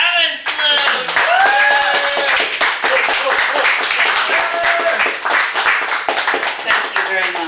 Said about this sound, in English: I want everyone to give a big round of applause for our feature tonight, Jenene Ravesloot.